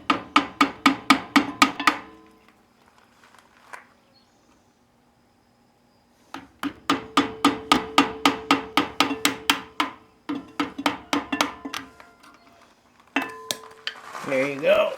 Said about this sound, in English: Need to take the grease cap off.